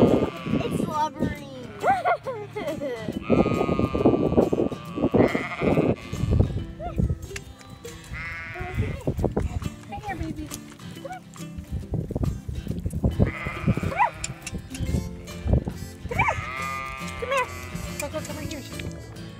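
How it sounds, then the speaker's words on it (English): Sheep bleat repeatedly, some close and loud, amid a noisy outdoor scene with people talking over them. "Ever hear a pissed off sheep?"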